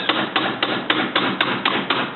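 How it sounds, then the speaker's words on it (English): A hammer taps a steel punch set in the center drill of a Sioux Tools pneumatic extended metal body grinder to drive the gear parts apart: about nine sharp, evenly spaced metallic strikes, close and loud, with no talk. "We'll use a punch and a hammer."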